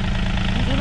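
A John Deere 5036 EN tractor works in a field, its engine running loud and close with a steady low rumble and chugging throb across the short moment, voices mixed in.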